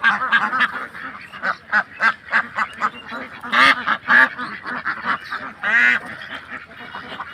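A flock of white Belgian ducks on a farm quacks repeatedly and busily, many overlapping calls close by with a few louder honking bursts.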